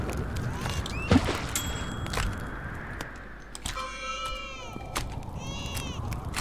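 A cartoon cat in the witch-themed cooking game Cooking Witch gives several high, drawn-out meows amid clicks, thumps and other game sounds, with no talk over them.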